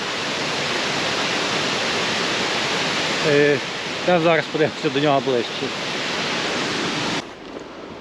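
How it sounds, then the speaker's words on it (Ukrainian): Artificial waterfall spilling over a river dam, a continuous loud roaring rush filling the whole clip, with someone speaking briefly over it midway. "І бачите, такий штучний водоспад зроблений."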